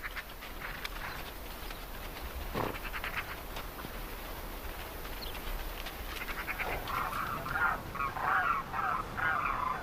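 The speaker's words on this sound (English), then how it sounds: "Families of demoiselle cranes feed in big flocks as they prepare for their migration back to India." A big flock of demoiselle cranes feeding in an arid Asian desert before migrating, their calls rising as a dense, distant chorus of overlapping honks that grows louder toward the end, with no voices.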